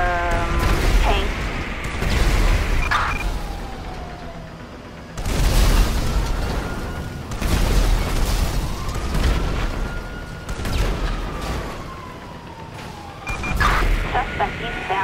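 Explosions from a tank attack in GTA 5 boom repeatedly, several heavy blasts spread across the stretch, mixed with engine noise, falling whistle tones and a beeping, while a radio-style voice talks throughout.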